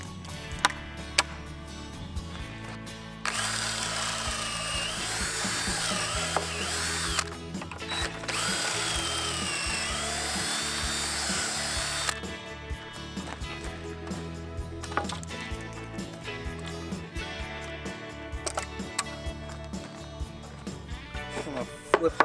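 Power drill boring through a 2x4 with a stepped bit set in a Kreg pocket-hole jig, two long sustained whining runs close by with short start-up bursts and clicks between them.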